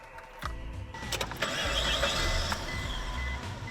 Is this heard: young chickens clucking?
no